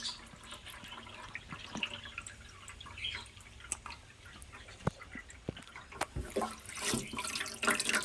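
Water pours and trickles into a container at close range, a soft continuous splashing dotted with sharper drips and gurgles that grow busier toward the end, with no talking.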